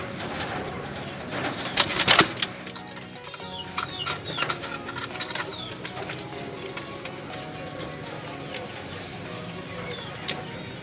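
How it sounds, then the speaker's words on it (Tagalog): Racing pigeons coo in soft, repeated calls at a club training release, with occasional wing flaps and faint voices in the background under a steady outdoor hiss. "So dito sigurado lalabas yung ibon natin,"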